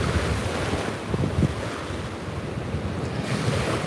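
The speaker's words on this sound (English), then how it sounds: "Tide's racing up the river." Tidal water rushes up a river with a steady surging wash, heavy wind buffeting the microphone, and no voices.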